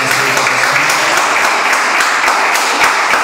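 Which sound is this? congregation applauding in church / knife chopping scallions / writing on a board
congregation applauding in church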